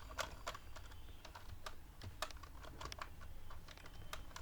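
Steady typing on a computer keyboard while code is entered, with rapid, irregular key clicks over a faint low hum, close and quiet with no speech.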